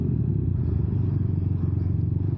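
Steady low rumble of a motorcycle exhaust fitted with a JVT V4 Teardrop pipe, recorded close to the pipe while riding through street traffic, continuous and loud with no talk.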